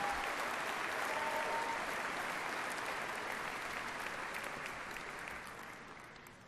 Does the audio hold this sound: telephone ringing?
no